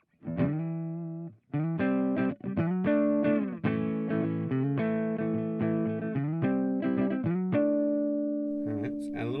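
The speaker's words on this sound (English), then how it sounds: "we're dealing with a very, very dry guitar tone because I haven't put any effects or reverb on it" A dry electric guitar plays with no effects or reverb, strummed chords and ringing notes coming in short phrases with brief gaps, close and fairly loud, the tone raw and unprocessed.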